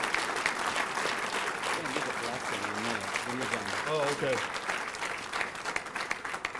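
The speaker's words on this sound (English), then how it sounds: "Let's give Ann a great round of applause." A crowd at a city news conference in Albuquerque gives Ann a steady round of applause, dense clapping that holds throughout while a few voices talk briefly underneath.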